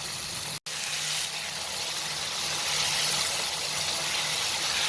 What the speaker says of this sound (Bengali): এখন ভালোভাবে কষিয়ে নেব।